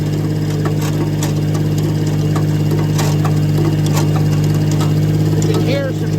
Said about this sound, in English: You can hear some gears meshing, or not meshing rather